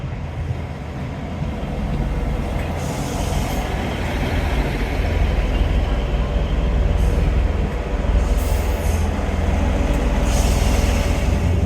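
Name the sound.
train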